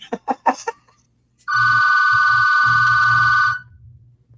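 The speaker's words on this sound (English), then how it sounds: "Sorry about my phone ringing." A house phone gives a single steady electronic ring of about two seconds. Brief voices come just before it, with a low hum underneath.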